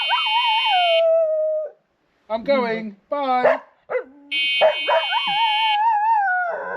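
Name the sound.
dog howling at the e-bike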